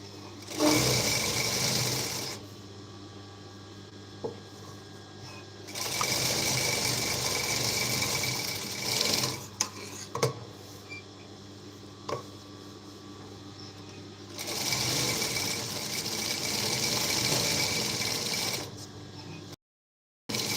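A sewing machine stitches a blouse in three long bursts of steady, close running whir, separated by short pauses filled with small handling clicks and taps.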